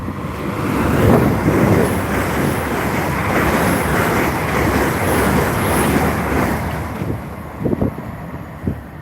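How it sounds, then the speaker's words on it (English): A fast train rushes through Monifieth station, a loud, continuous rolling roar with rattling wheel noise and wind buffeting that holds for several seconds before easing, with no voices. "We've got a fast train coming through."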